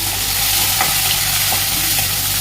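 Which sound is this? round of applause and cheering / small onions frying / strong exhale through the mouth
small onions frying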